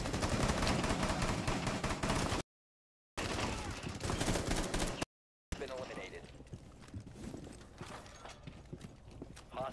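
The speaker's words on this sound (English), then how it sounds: "I shot one of my teammates in the middle of the firefight" Gunfire during a firefight in the Rainbow Six tactical shooter game, dense rapid shots and clattering bursts with brief silent gaps, then sparser scattered fire; voice chat talk can be heard mixed in.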